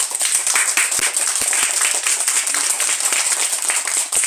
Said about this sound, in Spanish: Aplauso para mi amigo.